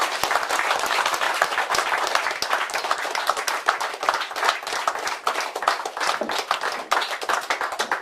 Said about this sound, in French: je vous demande une salle d'applaudissements pour nos conseillers départementaux, Jean-François Rénal et Fabienne Devez.